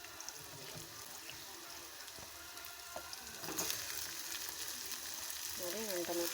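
Tomatoes fry in hot oil in a kadai for savige upittu, giving a soft, steady sizzle that grows louder partway through, with faint stirring and a voice briefly heard.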